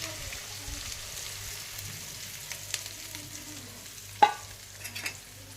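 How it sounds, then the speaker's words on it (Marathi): Besan batter made with water and salt being stirred in a kadhai, a soft scraping and faint bubbling with a louder clack near the end, quiet and close. "आता हे मिश्रण एकदम घट्ट होईपर्यंत हलवत राहायचं."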